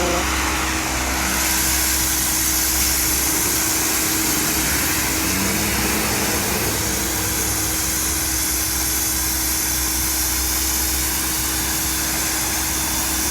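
A turbo-style fitting on a Mercury Cougar engine gives a steady, loud whooshing hiss over a constant low engine drone, running unchanged for over thirteen seconds with no talking.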